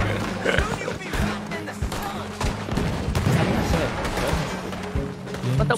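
A Gatling gun fires in Red Dead Online, rattling in rapid bursts amid other gunfire and the noise of the game, while players talk over it throughout.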